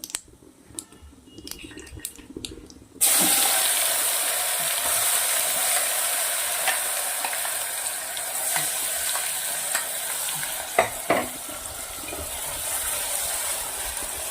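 Ground spice paste for Kathiyawadi green pigeon pea curry hits a hot pan after a quiet start, setting off a sudden loud hissing sizzle that settles into steady frying, with occasional scrapes and clicks of stirring.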